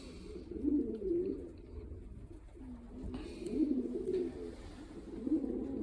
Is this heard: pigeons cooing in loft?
yes